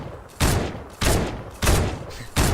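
Four loud bursts of gunfire from a scoped AR in Fortnite come in a fairly even rhythm about half a second to a second apart, each a sharp crack with a short decaying tail.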